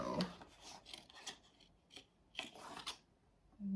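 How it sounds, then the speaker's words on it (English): Tarot cards are pulled from a deck one at a time, giving soft, close, papery rubs and slides. The short strokes come in irregular bursts with pauses between them, and the whole thing is quiet. "that's what I am doing, pulling out the cards"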